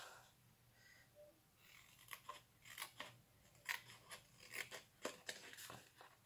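Scissors snipping through a strip of paper while making a Halloween paper rosette, a run of sharp, close, quiet cuts in an uneven rhythm over a hushed room.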